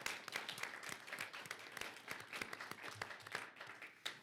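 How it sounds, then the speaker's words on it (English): A crowd at a Reno City Council meeting applauds steadily throughout, a dense patter of many hands clapping at moderate distance, fairly quiet overall. "Give him another round of applause."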